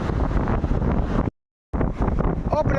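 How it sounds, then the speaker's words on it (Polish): Northern Baltic sea waves surge onto a beach at Kuźnica during a storm, a loud broadband roar of surf heavily buffeted by wind on the microphone, briefly cut to silence midway. "Fale północne wdzierające się w ląd."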